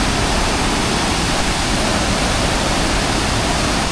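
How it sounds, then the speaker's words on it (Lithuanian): A waterfall in Sicily pours down in a steady, dense rush of falling water. The roar holds loud and unbroken throughout, with no voices. "Čia girdžiu kažkur jau krioklys geras."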